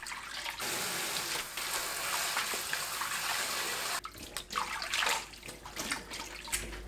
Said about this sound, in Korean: 4분 후 체에 거르고 찬물에 두세 번 헹궈주세요.